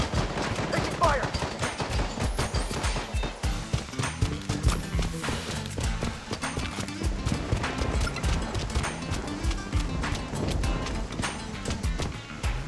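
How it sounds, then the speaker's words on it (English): Dense gunfire in the mobile shooter Bloodstrike: rapid automatic bursts and scattered single shots crackle nonstop under game music and effects, loud and close throughout. "Taking fire."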